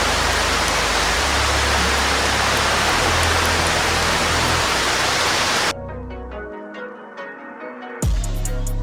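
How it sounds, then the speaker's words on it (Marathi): Heavy rain pours outdoors in a hilly rural spot, a dense continuous roar of falling water close by that cuts off abruptly after several seconds, leaving quieter drips and patter. "बघू शकता तुम्ही पाऊस आलेला आहे"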